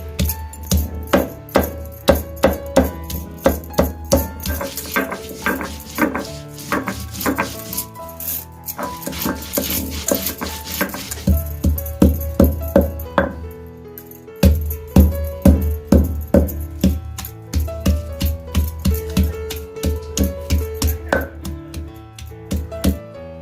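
Ginger and garlic being ground into a paste, heard as a busy run of rhythmic clattering knocks and rattles, loud and close, with a brief buzzing grind in the middle and no talking.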